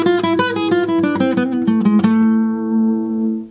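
Gypsy jazz guitar lick played at full speed on acoustic guitar, a quick run of picked notes for about two seconds, then a final note ringing out and fading, close and alone.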